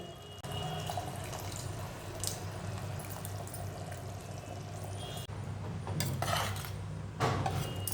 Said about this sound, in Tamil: கொஞ்சமாக புளி ஊற்றலாங்க